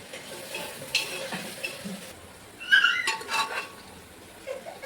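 Onions and garlic fry in a pan with a soft, steady sizzle, broken by scraping and a few light clinks of a spoon stirring against the metal.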